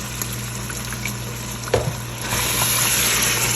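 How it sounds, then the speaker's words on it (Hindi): Lamb masala fries in a pot as water is splashed in, giving a crackling sizzle with a brief pop partway through, then a louder, fuller hiss as the liquid hits the hot spices. "बस थोड़ा थोड़ा छींटा देंगे और साथ साथ भूनते चले जाएंगे"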